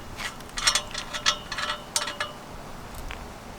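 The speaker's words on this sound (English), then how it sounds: "now let's unscrew this." A ratchet wrench clicks in several short bursts while bolts are loosened to remove the exhaust from a Mazda Miata, close and fairly loud.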